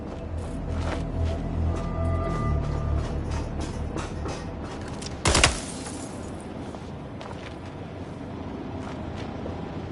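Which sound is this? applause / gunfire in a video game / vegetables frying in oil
gunfire in a video game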